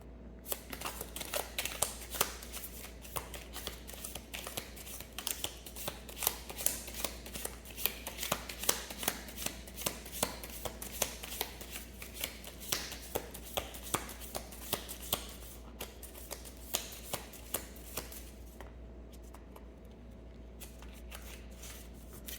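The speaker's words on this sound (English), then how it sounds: "I'm going to shuffle again to see if there's any additional messages" Tarot cards are shuffled continuously by hand, a dense run of quick riffling and flicking that goes on without a break and with no talking.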